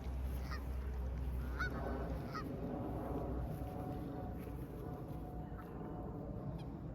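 Geese honking repeatedly in a flock during an early morning outing with backyard birds, steady and close, with faint human voices underneath.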